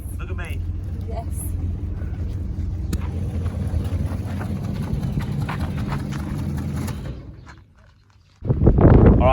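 An old car motor idling steadily as a low, rough, loud drone with faint clicks and taps on top, then cutting off, followed by a brief quiet gap and a sudden louder burst.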